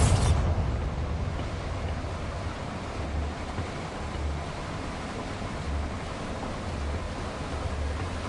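Bombarda blasting spell cast in Hogwarts Legacy: a sharp blast right at the start, followed by a long, loud rumbling roar that settles into a steady, surf-like wash of noise.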